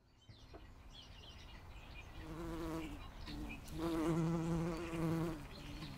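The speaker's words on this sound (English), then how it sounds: "I have some garden sounds, bumblebees and nightingales." Bumblebees buzz in low, droning bursts that swell and fade, with a few faint nightingale chirps in the quiet garden.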